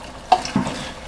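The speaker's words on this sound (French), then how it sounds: "Et on mélange." A few short, soft stirring sounds as penne pasta is mixed with reserved pasta cooking water in a pan, two brief scrapes close by with a quiet background.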